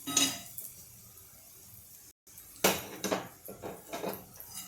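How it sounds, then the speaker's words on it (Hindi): A metal wok (kadhai) clanks down onto a stovetop with a sharp clatter, followed by a few lighter scraping knocks in a quiet kitchen. "इसके ऊपर मैं वो कढ़ाई रख देती हूँ।"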